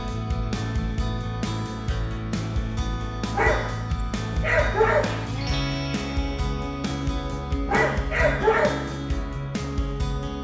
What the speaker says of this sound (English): Here's another example of a heroic dog that's always alert and ready to protect.